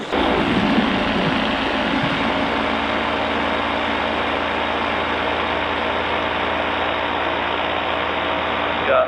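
A paramotor engine drones loud and steady at throttle during a landing approach, a continuous buzzing roar close to the microphone with a slight easing near the start.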